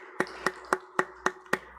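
Evenly spaced rhythmic hand claps, six sharp beats about a quarter second apart, from a congregation during a Sunday church service, fairly quiet with little background noise.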